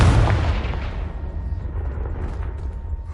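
Confringo blasting spell exploding against a piled barricade in Hogwarts Legacy: a loud, close boom at the start that rumbles and decays smoothly into a fading low tail.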